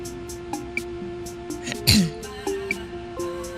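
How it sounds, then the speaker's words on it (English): A single throat clearing in the middle, fairly close and loud, set against quiet game music with regular soft notes. "just clearing my throat"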